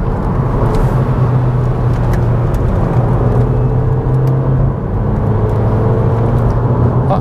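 A Mk5 VW Golf GTI drives along a road, its engine giving a steady, loud drone with shifting tones and a constant tyre and road rumble throughout, no voices.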